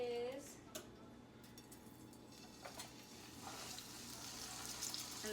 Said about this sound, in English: because we wanna get that, a nice sear on the steak